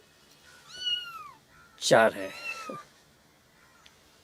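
A cat gives a few clear, drawn-out meows, one short call followed by a louder, longer one, close by with a little background noise.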